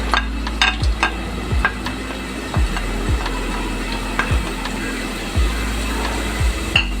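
Garlic frying in 3 to 4 tablespoons of hot oil, a steady sizzle under repeated sharp knocks and scrapes of a utensil stirring in the pan, close and moderately loud.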